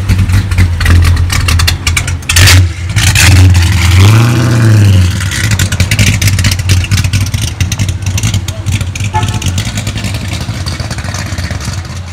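A 1966 Chevrolet Chevelle's 327 V8 runs loud and close, rumbling at a steady idle and then swelling through a couple of throttle blips before settling back into a rough, lumpy idle.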